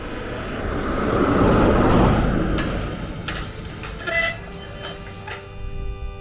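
A vehicle speeds past on the A71 near Caldermill, its loud whoosh rising and fading away within a few seconds, followed by quieter road noise and faint ticking.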